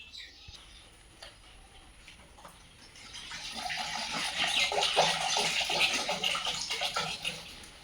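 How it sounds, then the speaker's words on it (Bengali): Tap water runs into a pot being filled for Maggi noodles in a home kitchen, a steady splashing rush that swells louder midway and continues to the end, with no talk over it. "জল ভর্তি করে দিচ্ছি"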